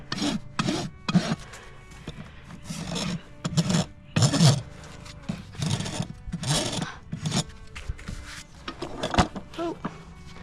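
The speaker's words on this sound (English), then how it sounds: "I'm just going to use the fine side of my rasp to smooth out the bevel" The fine side of a farrier's rasp smooths the outer bevel of a horse's hoof, about a dozen rhythmic scraping strokes, close and gritty, with short pauses between passes.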